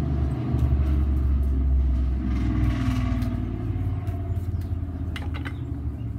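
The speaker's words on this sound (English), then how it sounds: "can you hear that motorcycle?" A motorcycle engine rumbles loudly nearby in a deep, steady drone that slowly eases off, with no voices.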